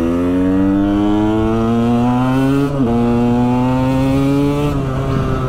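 Loud KTM 125 EXC two-stroke dirt bike engine revving close by, a steady high buzzing drone that rises gradually, drops briefly near the middle, then climbs again before easing off near the end.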